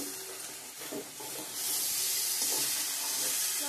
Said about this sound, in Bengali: ভালো করে কষিয়ে নেব আবারও।